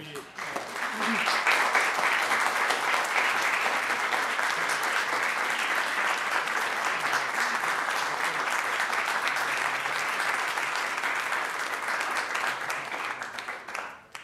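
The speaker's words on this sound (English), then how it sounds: "a big chunk of that applause, I would say, is not only for Peter's lecture tonight" Sustained audience applause after the Dudleian Lecture on Kristallnacht, a dense, even roar of many hands clapping that fills the hall for about fourteen seconds before tapering off abruptly at the end.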